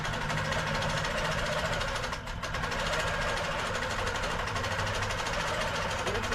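A domestic or long-arm sewing machine runs steadily while stitching an insulated tote bag, a loud continuous mechanical hum with one short dip near the middle.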